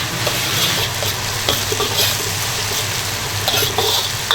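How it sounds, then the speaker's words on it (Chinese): Dry red chilies, Sichuan peppercorns, ginger, celery and onion stir-fried in a little oil in a wok, a loud continuous sizzle with quick stirring strokes close by, no speech. "给它炒香哈"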